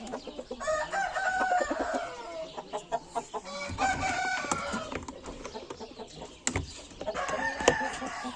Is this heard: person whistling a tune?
no